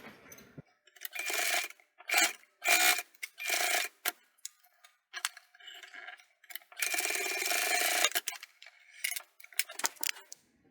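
A sewing machine stitches fabric for a circle pouch, running in short, loud mechanical bursts of varying length with brief silences between them, including one longer continuous run near the middle.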